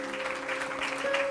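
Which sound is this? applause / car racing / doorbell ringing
applause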